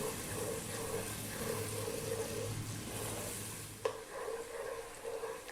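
Onions fry with spices over high heat for aromatic Arab rice, giving a steady, close sizzle and crackle with a sharp scrape of stirring near the end.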